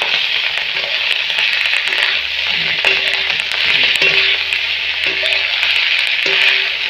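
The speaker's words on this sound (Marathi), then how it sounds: "ही चांगलं अगोदर तेलामध्ये फ्राय झालं पाहिजे" Goat tripe fries in hot oil, a steady loud sizzle with a spatula scraping and clinking against the pan as it is stirred.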